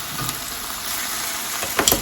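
Chicken and vegetables stir-frying in a pan make a steady, close sizzle with soft crackles, and a few louder scraping stirs come near the end.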